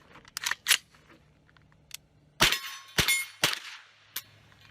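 An AR-15 fitted with a laser light combo fires at a water-bottle target, producing several sharp metallic clangs and cracks spaced irregularly over a few seconds. The impacts are close and loud, with brief clicks between them and no talking.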